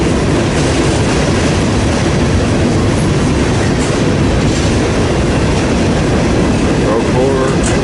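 A BNSF freight train rolls past close by, its loud, continuous rumble and clatter of wheels on rail filling the whole stretch without pause.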